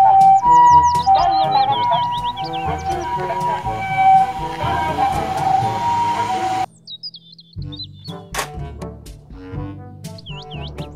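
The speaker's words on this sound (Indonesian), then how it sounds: "Mobil ambulan." Ambulance siren sounding amid chirpy, tweeting tones and busy mixed sounds, then breaking into brief, intermittent bursts after a short pause.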